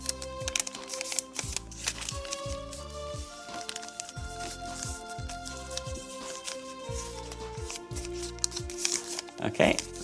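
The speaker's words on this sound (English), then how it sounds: "fold the whole thing down on this crease, and continue all the way down, folding through all layers" Paper is creased and folded through all layers into a fan-like shape for an origami lightsaber. The crisp rustles and crinkles come in short bursts close to the microphone, under light background music.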